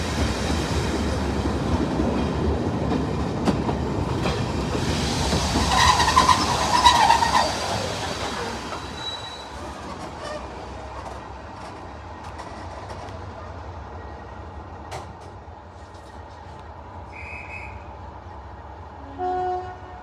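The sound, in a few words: diesel locomotive 37607 departing Corfe Castle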